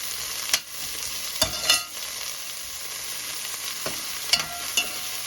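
Chickpeas frying and being stirred in hot oil in a pan, with a steady sizzle broken by a few sharp scrapes and clatters of a utensil, close by and with no talking.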